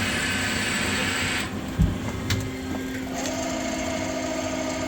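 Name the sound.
PolyGim Diamond 42CSL CNC Swiss lathe spindles running at 1,000 RPM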